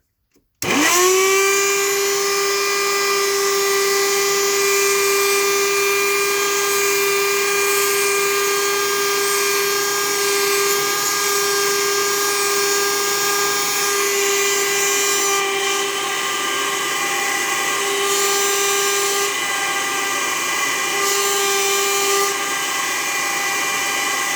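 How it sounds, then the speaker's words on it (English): A Bissell Little Green 1653-4 portable spot cleaner switched on, its motor spinning up quickly into a loud, steady high-pitched whine with whooshing airflow that holds unbroken for over twenty seconds, no talking. "let's go ahead and flip this on"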